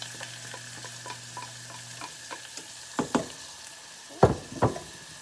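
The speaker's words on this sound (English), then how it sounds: "I'm gonna go ahead and add the chopped onion and garlic" Chopped onion and garlic hit olive oil over medium heat, giving a soft steady sizzle with a faint hum, then a few louder scraping stirs near the end.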